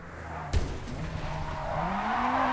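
Engine of a JDM car, opening with a sharp knock and then a rising hum as the revs climb steadily, close and moderately loud.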